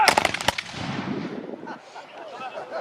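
Enfield 1853 rifle muskets fired as a volley at a reenactment arena display: a ragged burst of sharp overlapping cracks, then a rumbling echo that fades under distant crowd noise.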